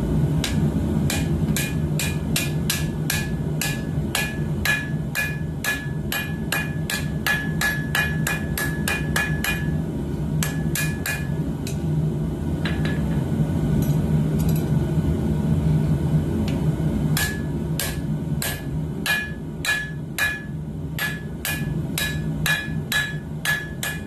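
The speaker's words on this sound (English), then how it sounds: "this is probably just going to be the forging of it" A hammer forges a bird and trout knife with rapid, sharp, ringing blows in steady bursts, loud and close, with a short pause midway before the rhythmic striking resumes.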